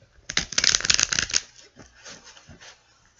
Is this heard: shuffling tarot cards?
yes